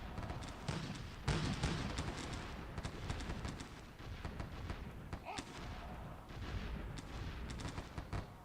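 Musket volleys and artillery fire in the Civil War strategy game Sid Meier's Gettysburg: repeated crackling reports and heavier booms roll on steadily, distant and layered, with a few sharper shots standing out.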